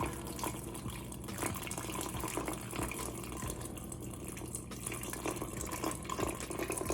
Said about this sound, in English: And as I pour, I'm pouring slowly.